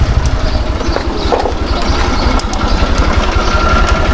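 A Honda Fan 125 motorcycle engine with an abnormal internal noise runs steadily at close range, a loud continuous rumble with faint ticking on top and no talking.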